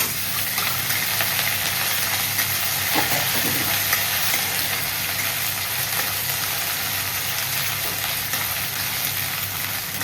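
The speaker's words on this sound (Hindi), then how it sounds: "अब करी लीव्स के बाद हम लोग ये अदरक लहसुन और जो हरी मिर्ची की जो पेस्ट दरदरा कूट के जो रेडी किया था वो डालेंगे" Coarsely pounded ginger, garlic and green chili paste frying with curry leaves in oil on a cast iron tawa, a steady broad sizzle with faint stirring scrapes throughout, no talking.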